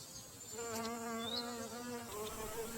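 A hairy-footed flower bee feeding at comfrey flowers gives a close, steady whining buzz that wavers slightly in pitch, faint against a quiet outdoor background.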